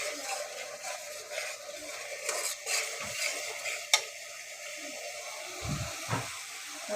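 Spice paste is stirred and sautéed in a pan, a soft continuous sizzle with intermittent scraping strokes of a spoon and a few sharp clinks against the metal.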